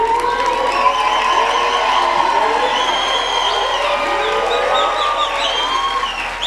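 Audience at a university graduation ceremony claps and cheers loudly, a dense sustained wash of applause with whoops and shouting voices throughout, steady and close.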